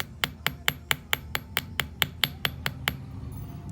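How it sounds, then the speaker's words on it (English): A chasing hammer strikes a wire loop for a paper bead macrame bracelet, giving about twelve sharp, bright metallic taps in a steady rhythm, close and clear with no talking. "and we're just going to hammer it"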